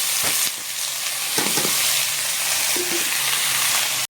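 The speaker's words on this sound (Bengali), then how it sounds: "সেখানে দেখতে দেখতে আমি আরেকটা ভাজা বসিয়ে দেবো" Food fries in a pan with a steady, close sizzle and occasional clinks and scrapes, no one speaking.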